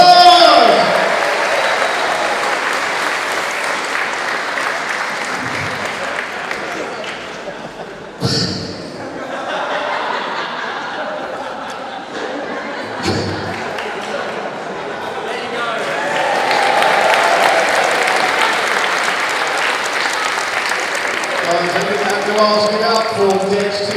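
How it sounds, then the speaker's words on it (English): A wrestling show audience at a Halloween trick-or-treat event claps and cheers, loud crowd noise rising and falling across the stretch with scattered thumps and voices mixed in. "Ladies and gentlemen, give him a round of applause!"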